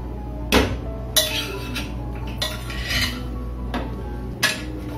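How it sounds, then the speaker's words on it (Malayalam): Tomatoes and ginger garlic paste are stirred in a pan for a beef curry, with a few sharp metal utensil scrapes and clinks against the pan spaced over a steady low background. "ഇനി നന്നായിട്ടൊന്ന് മിക്സ് ചെയ്യാം."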